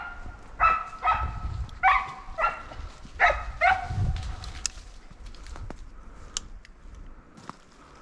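A hunting dog on a late-fall ruffed grouse hunt barks in a quick series of loud, nearby yips and barks, then fades into quieter outdoor ambience.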